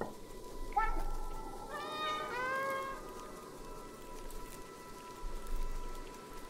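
Cats meowing in the video game Stray, several short bright mews in quick succession over soft rain-like ambience, fairly quiet and then fading into steady background patter.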